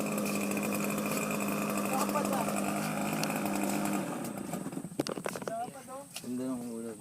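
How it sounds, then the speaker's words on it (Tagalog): An OS 75AX glow engine on an Sbach 342 model airplane running at a steady buzzing drone for several seconds, then cutting out, with people talking nearby toward the end. "Andun to yung engine."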